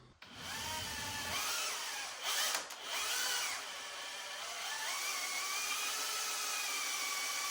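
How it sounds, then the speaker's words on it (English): A power sander whines against a rotary bit carousel in a workshop, starting abruptly, then holding a steady, loud, close drone with small pitch dips as pressure changes. "So I'm going to sand this down a little bit,"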